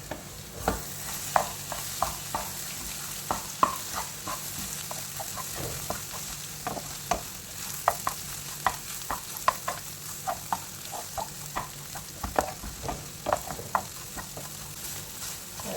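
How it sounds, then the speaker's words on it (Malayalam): Vegetarian egg and coconut thoran is stir-fried in a pan, with a spatula scraping and tapping in irregular, repeated strokes over a soft, constant sizzle, close and moderately quiet. "ഇനി ചിക്കി എടുക്കാം."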